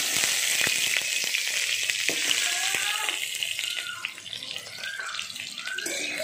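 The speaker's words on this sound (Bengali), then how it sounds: "এই আলুটা তেলে ভালো করে নেড়ে একদম লাল লাল করে ভাজা করে নিচ্ছি।" Cut potatoes fry in hot oil in a karahi, a bright steady sizzle with scattered stirring knocks and scrapes, the hiss easing slightly partway before swelling again.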